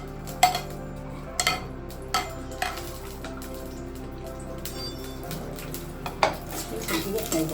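Seven or eight mild white-green chillies frying in heated oil, stirred in a pan for a Telangana-style dish: metal utensil clinks and scrapes against the pan over a faint, steady sizzle, with no talking.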